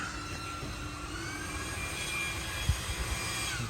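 A lightweight Ryobi handheld leaf blower blows lawn clippings off during a front lawn cleanup, giving a steady, droning engine-like whoosh with a faint whine, holding constant throughout, with one brief thump.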